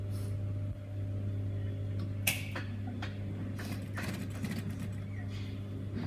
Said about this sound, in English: Pin it, stitch it all the way through on that main hem.